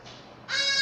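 Crows caw outdoors, a raspy call rising suddenly out of a faint background hiss and holding loud and close for the final moments.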